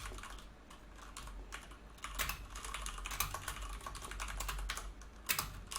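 Typing on a computer keyboard during a rigging work session, quick irregular clicks and clatter of keys close by, continuous with brief pauses and no voices.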